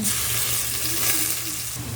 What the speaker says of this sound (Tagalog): Lagay na natin ang ating pork. Kailangan kasi mainit na mainit para hindi dumikit.